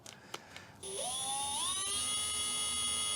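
Harbor Freight cordless drill spinning up with a rising motor whine that settles into a steady high-pitched hum, close and loud, after a few faint clicks and knocks.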